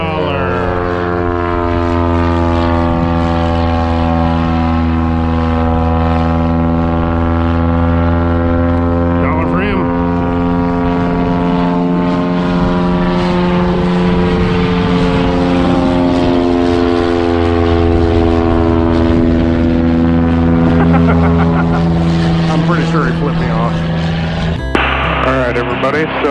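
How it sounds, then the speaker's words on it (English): Propeller airplane engine droning steadily through a banner towing flight, loud and close with a constant harmonic hum that shifts pitch slightly as the aircraft stabilizes. "Kind of got the airplane all stabilized now"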